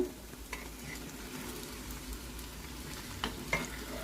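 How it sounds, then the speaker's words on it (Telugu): Potato pieces fry steadily in hot oil while making a home-style Telugu potato mash curry, producing a continuous soft sizzle with a few brief clatters of stirring, with no talking. "ఇప్పుడు ఈ బంగాళదుంప ముక్కలు ఇందులో వేసేసుకుందాము."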